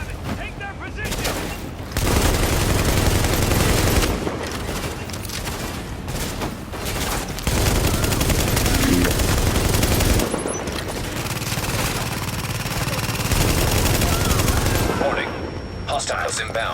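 Sustained automatic gunfire from a Tom Clancy's The Division firefight, dense bursts of rapid shots continuing almost without pause, loud and close, with brief lulls between volleys.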